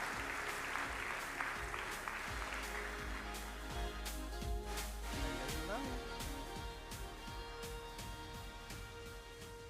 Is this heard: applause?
yes